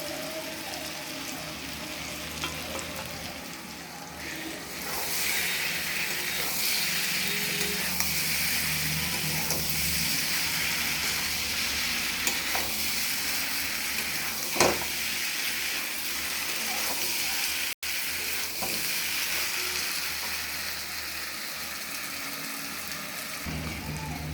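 Previously fried chicken meat, added to a pan of cooked-down onion, ginger and garlic for chili chicken, sizzles in a loud, steady hiss that runs throughout, with occasional stirring scrapes.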